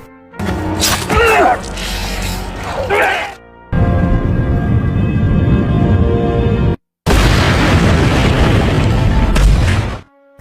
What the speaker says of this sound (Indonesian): Akhirnya Dragovic tewas dan meledak bersama helikopter di tempat itu.